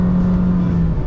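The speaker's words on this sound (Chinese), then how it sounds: "然後你要加速就是一腳油門踩哦，踩到底哦" A 2025 Proton Saga under full-throttle acceleration, heard from inside the cabin as a loud, steady engine drone with a sustained low hum over about a second.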